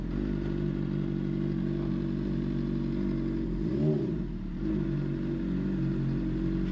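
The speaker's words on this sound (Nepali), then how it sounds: "अब यहाँ यसरी पार्किङमा चट्ट लगाएर बाइक राख्छु म पनि" Honda CBR600RR sportbike idles with a steady, close mid-pitched engine drone while being parked, a brief rev swelling and falling around the middle, the engine continuing under light clatter.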